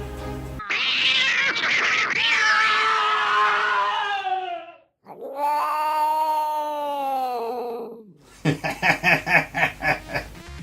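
A cat meows loudly in long, drawn-out wails, followed by a quicker series of short, pulsing cries, close and prominent with no talking.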